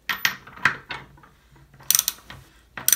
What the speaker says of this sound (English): From here, we will grab our 5/8 socket